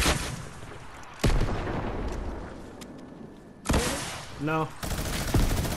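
Explosions in a Fortnite battle royale match: a few sharp, loud blasts with short decaying tails, spaced apart over a quieter noisy bed, with a brief voice speaking.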